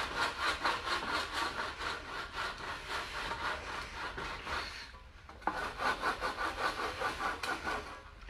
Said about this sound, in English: And I have to sand it.